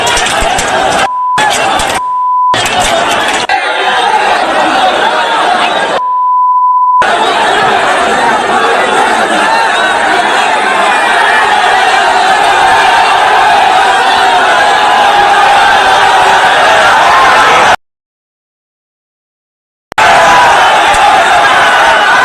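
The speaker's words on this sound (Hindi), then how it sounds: "ये भीड़ बढ़ती है पुलिस की तरफ।" A large, agitated crowd surges toward police before a baton charge, a dense roar of shouting and chatter sustained loudly, broken by a few short electronic beeps and a brief silent gap.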